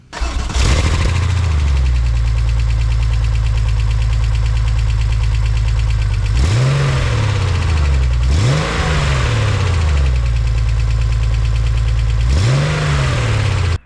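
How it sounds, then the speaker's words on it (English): A 1998 Porsche 993 Carrera S fitted with a Fab Speed exhaust idles loudly and steadily, then blips its throttle in four sharp revs spaced a couple of seconds apart, each climbing and falling back to idle, close by with no talking. "These are Fab Speed exhaust, and it makes the sound of this Porsche even better."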